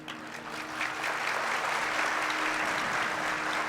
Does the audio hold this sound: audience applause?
yes